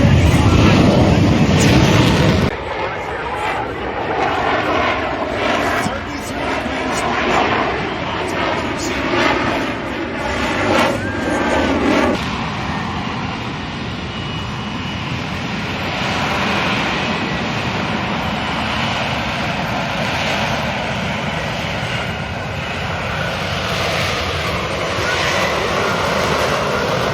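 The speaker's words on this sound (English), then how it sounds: "Let's watch, ladies and gentlemen. The F-35." F-35 fighter jet at the Miramar air show, a loud roaring engine that swells then settles into a sustained rumble, with crowd and announcer voices faintly underneath.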